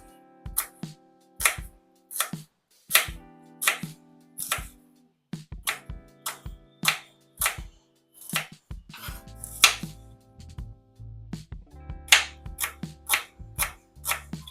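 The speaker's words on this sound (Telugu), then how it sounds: "ఆనియన్స్ పచ్చిమిర్చి తీసి కట్ చేసుకోవాలి" Onions and green chillies being sliced thin on a cutting board, a steady series of sharp, close knife taps in quick bursts with brief pauses between them.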